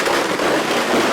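Firecrackers burst at a street celebration outside a protest pavilion in Munambam, Kerala, a loud, dense, rapid crackle filling the whole moment.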